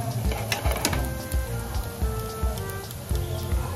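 Seekh kebabs made from leftover roti pan-frying on a medium flame, a dense continuous sizzle and crackle with scattered pops and faint clinks throughout, close and steady.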